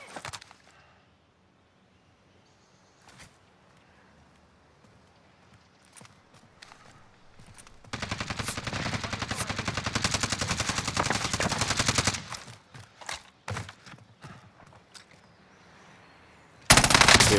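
Automatic gunfire in a video game, a rapid, dense burst of shots lasting about four seconds, with scattered single shots and clicks before and after and one loud blast at the end.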